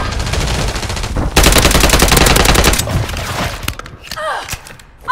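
Heavy automatic gunfire in a Call of Duty match, dense rapid bursts that are loud and continuous for about three seconds, then trailing off into scattered thuds and game sound effects.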